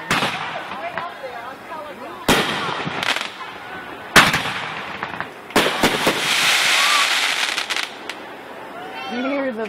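Fireworks at a family display let off several sharp booming bursts with crackles and echoing rumble between them, loud and outdoors, while people nearby talk and exclaim.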